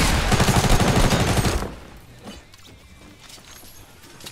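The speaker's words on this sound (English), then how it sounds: "I got sniped from there." Gunfire in the Fortnite battle royale, a sniper rifle shot in a rapid burst of loud, dense shots lasting about a second and a half, then fading into quieter game ambience with scattered faint clicks.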